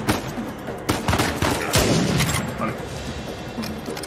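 Rapid bursts of gunfire from a firefight in Uncharted 4 multiplayer, several sharp shots and short volleys crackling in quick succession over a busy mix of game noise, with background voices faintly present.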